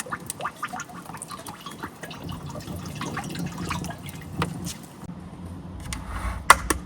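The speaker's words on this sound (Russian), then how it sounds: "наливаем масло подсолнечное без запаха" Unscented sunflower oil poured into a well-heated cauldron (kazan) in a home kitchen, heard as faint, irregular liquid trickles and scattered drips against a quiet room, with no talking.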